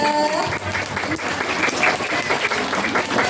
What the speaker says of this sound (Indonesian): Masya Allah, tepuk tangan yang mulia.